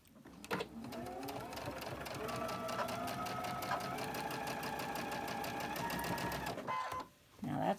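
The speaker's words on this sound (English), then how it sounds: "I'm going to sew on this side because I want to see these seams so they don't fold over on me." A sewing machine runs steadily, stitching seams in fabric, its fast mechanical whir and needle clatter continuing for several seconds before stopping briefly near the end. A voice talks over the sound.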